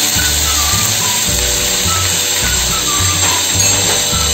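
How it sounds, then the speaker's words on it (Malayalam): Building construction work nearby, with power tools grinding or sawing loudly and continuously, a droning mechanical whine with rhythmic low pulses throughout. "ബിൽഡിംഗ് പണി നടക്കുന്നതുകൊണ്ട് സൗണ്ടാ ഭയങ്കര"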